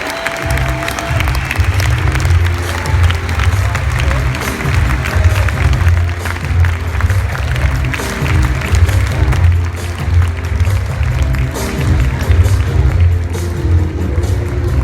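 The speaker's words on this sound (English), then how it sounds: "Let's give them a round of applause." Audience applause at an Enagic global convention, a dense, sustained wash of clapping running the whole stretch, with music or voices faintly beneath it.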